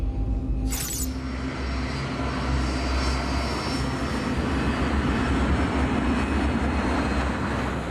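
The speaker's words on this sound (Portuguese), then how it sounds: "Quando a aeronave deixa o Heathrow" A BEA airliner departing Heathrow with a steady, loud engine roar that fills the whole stretch without a break, following a brief high hiss at the start.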